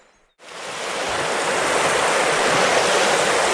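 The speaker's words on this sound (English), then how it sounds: "Not a bad stretch of river." A New Zealand river flows in a strong, constant rush of water that starts abruptly after a brief quiet moment and then holds loud and close without any talking.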